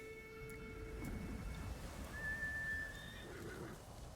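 Horse neighs in the game Ghost of Tsushima, a high wavering whinny rising and trailing off over a soft ambient bed, with faint thuds underneath and no voices.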